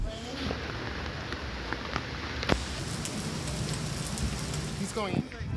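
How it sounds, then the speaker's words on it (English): Steady rain falling in Mexico City during the late afternoon, a dense continuous patter on surfaces with scattered louder drips, close and even throughout. "Sunny till about 3 or 4 p.m. and then rainy during the late afternoon and early evening."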